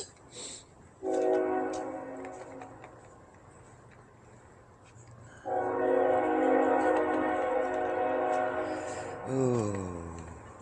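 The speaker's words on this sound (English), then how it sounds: "I hear a choo-choo train." A train passes during an early morning walk, its horn sounding in long harmonic blasts: one call, a pause, then a longer sustained blast ending in a falling tone, heard at moderate distance over outdoor ambience.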